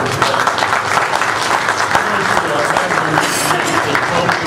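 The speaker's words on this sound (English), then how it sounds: "Just a round of applause" An audience gives a round of applause at a candidate forum, with dense, loud, steady clapping from many hands that continues without a break throughout.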